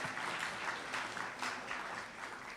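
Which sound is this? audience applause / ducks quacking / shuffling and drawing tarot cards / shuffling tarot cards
audience applause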